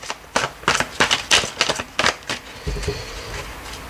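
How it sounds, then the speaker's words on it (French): Tarot deck being cut and cards drawn, heard as a quick series of crisp card snaps and shuffles, close and fairly loud, ending with a soft slide. "on va prendre le tarot, on va faire une coupe et le tirage en 7."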